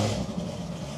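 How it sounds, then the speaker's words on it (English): A Corvette ZR1 engine on a cold start, a loud, steady, close-up roar that holds at high idle throughout the short moment with no voices. "Let's get the cold start, and then let's go."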